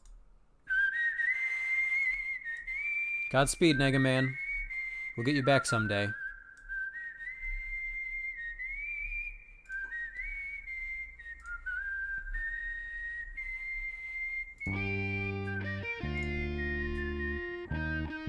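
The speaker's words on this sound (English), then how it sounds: "we're going to play the whistle song" The Mega Man whistle melody plays as a clear, wavering whistled tune with electronic distortion. A short spoken line interrupts midway, and a chiptune-style synth passage joins near the end.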